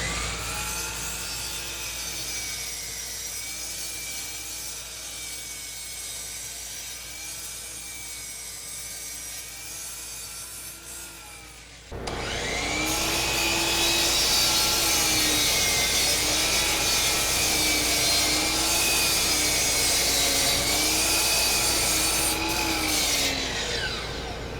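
Power saw cutting wood to square the ends of a piece for a wooden ship's captain's wheel, a continuous whining drone that jumps louder halfway through as the blade bites, close and steady, no talking.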